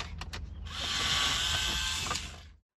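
Removing small T10 torx screws from a car stereo head unit, a close mechanical whir from a screwdriver turning for about a second and a half, preceded by a few light clicks.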